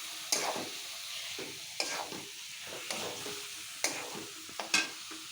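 Meat frying in hot oil while being stirred, repeated scraping strokes over a steady sizzle, close and fairly quiet, with no talking.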